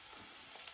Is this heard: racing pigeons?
no